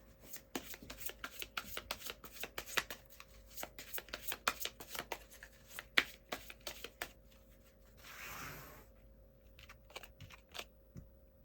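Tarot cards are shuffled close by in a quiet room: a quick run of crisp riffling clicks, then a soft rub and a few scattered taps as the deck settles, with no voice.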